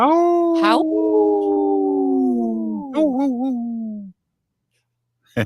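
Wolves howl loudly and alone: one long, steady howl, then a shorter wavering howl that breaks off into silence. A brief sharp sound comes near the end.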